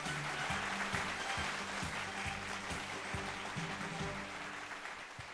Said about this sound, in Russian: Аплодисменты никогда не смолкаю.